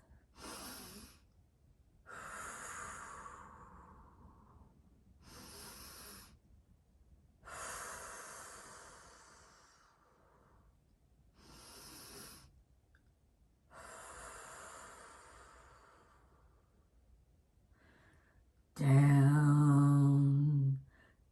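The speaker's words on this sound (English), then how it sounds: "So here we go, 3 deep breaths." Six slow, deep breaths during a relaxation exercise, each a long airy inhale or exhale separated by pauses, close and steady, ending with a louder, voiced hum-like exhale.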